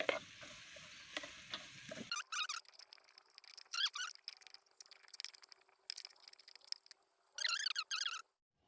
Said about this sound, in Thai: เจียวไปจนหอมเหลืองนะคะ ใช้ไฟอ่อน